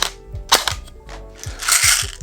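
An LCT AK-12 airsoft rifle fires on semi-auto: several sharp, separate shots spaced unevenly over two seconds, close and clear, ending in a louder, noisier burst.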